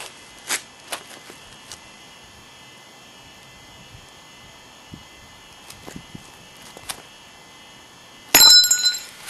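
A flint blade struck off a ground-platform blade core held in a holding device, a single sharp glassy crack near the end following faint scattered taps and clicks of preparation.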